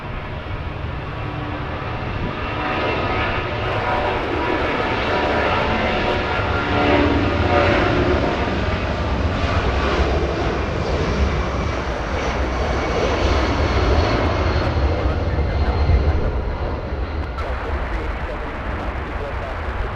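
A Boeing 757 departing Los Angeles International Airport roars loudly and steadily, swelling toward the middle and easing late, with people talking underneath.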